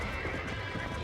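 A horse in the Red Dead Redemption video game gallops with steady clip-clopping hooves under a dense wash of game sound, close and continuous throughout the short stretch.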